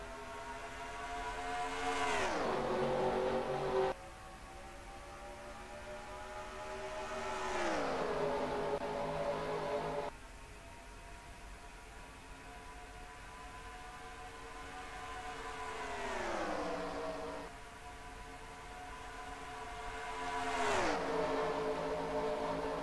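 Race car engines in a NASCAR-style sim race at Atlanta rev and surge past in repeated waves as the pack accelerates off a green-flag start, each car's pitch climbing then dropping as it passes, loud and continuous with no talk.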